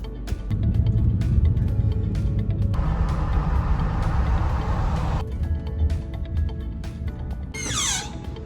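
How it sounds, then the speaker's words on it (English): A car pulling away on a Chicago street, a steady low engine and road rumble close by, with a broad hissing stretch midway and a high squeak near the end, no talking. "Okay, we're about to start our drive."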